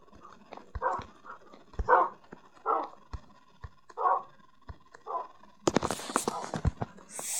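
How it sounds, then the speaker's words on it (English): Dogs in the Minecraft video game yip and bark in short repeated bursts, mixed with game sounds and a brief clatter near the end, moderately loud. "Oh, there's another doggy here. There's doggies here."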